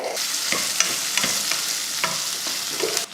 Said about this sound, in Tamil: வெங்காயம் இந்த அளவுக்கு பச்சை வாடை போகிற வரைக்கும் வதக்கிட்டு